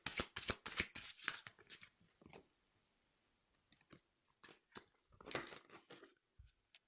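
Tarot cards being shuffled for a final draw: quick riffling, flapping bursts up close, then a quiet pause and another dense riffle, with a brief low thump at the end and no speech.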